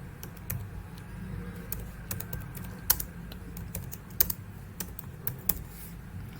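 Fingers type on a computer keyboard during a Git and GitHub tutorial, a quiet run of irregular key clicks with a few sharper taps standing out over a low background hum, and no talking.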